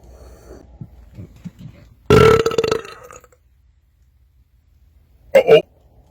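A loud, sustained belch from a man drinking cream soda and Dr Pepper, close and raspy for under a second, with a shorter second burp a few seconds later and faint murmuring beforehand.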